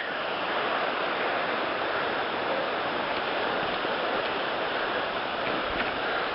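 A creek flows far below a Boundary Waters trail, heard as a steady broadband rush with no breaks, wind-like and constant throughout, with no talking.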